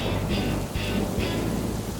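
Steady rain in a Peppa Pig cartoon scene, a continuous wash of falling drops with a few soft louder swells recurring about every half second, alone with no voices.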